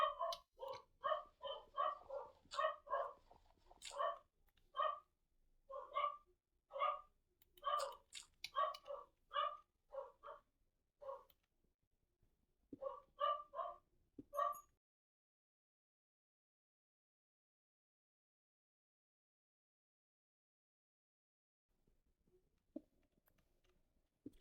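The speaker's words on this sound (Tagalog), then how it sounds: "Ayan, tumahol pa yung mga aso eh." Dogs barking in a Minecraft-style survival game, a run of short repeated barks in quick bursts over about fifteen seconds, fairly close and alone, then near silence.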